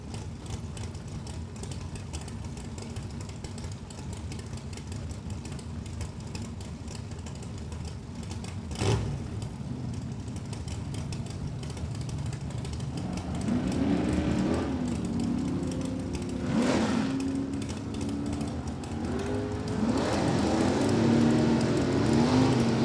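Drag racing cars, a 1966 Chevy II and a 434 cubic inch Vega, rumble and idle at the starting line, the engine noise building and revving louder toward the end, with no talking.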